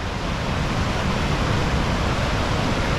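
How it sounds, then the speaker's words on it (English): Elk River Falls roaring steadily, a dense broadband rush of heavy falling water filling the whole clip at close range with no voices. "Wow, this is a beast of a waterfall."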